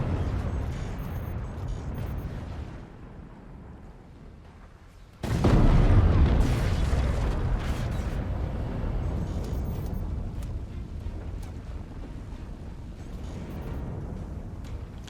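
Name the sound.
howitzer shell explosions in video game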